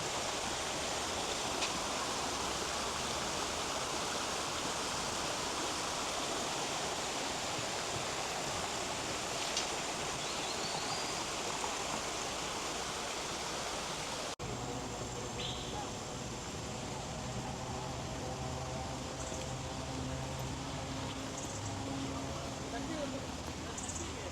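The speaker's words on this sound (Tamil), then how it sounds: "தண்ணி வர சத்தத்தை கேட்டுங்க எவ்வளோ நல்லா இருக்குது" Steady, broad rush of falling water at Kenchin waterfall in Selangor, Malaysia fills the whole stretch, loud and continuous, with faint voices and a shift in texture partway through.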